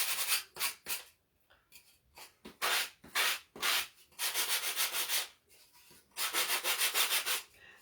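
Hand sanding on a wooden shelf sitter: bursts of dry, rasping strokes in an uneven rhythm with short pauses, close and fairly soft, with no talk.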